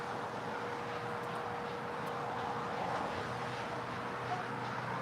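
An airliner takes off from runway 25 right at LAX as a steady, broad engine roar that holds even throughout, heard from a distance with no talk.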